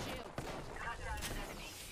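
Shotgun shots in the Apex Legends battle royale shooter, a few sharp blasts over busy game noise, with other gunfire and effects mixed in.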